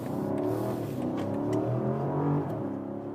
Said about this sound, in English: there you hear the V8 definitely even louder than in the US versions without that petrol engine particle filter